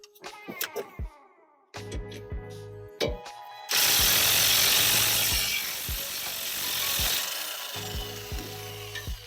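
Ratchet wrench clicking on ABS bracket bolts during front suspension replacement on a Chevrolet HHR, bursts of close, sharp ratcheting separated by pauses, with a louder broadband scraping stretch in the middle.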